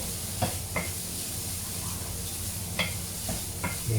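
Chinese noodles fry and are stirred in oil in a home kitchen pan, giving a steady low sizzle with a few sharp scraping clicks from chopsticks or utensils, close by and without talk.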